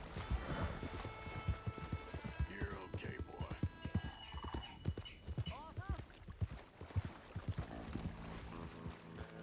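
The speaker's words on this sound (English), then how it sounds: "Come on, horse. Now run." A horse clip-clops along at a run in the Red Dead Redemption II video game, with steady hoofbeats, a brief whinny and game music beneath someone talking throughout.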